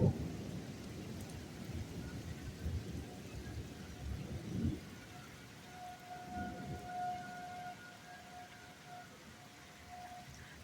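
Thunder rolling during a storm with steady rain, a deep rumble swelling loudly in the first few seconds then fading into distant grumbling, while a faint wavering siren drifts in the background.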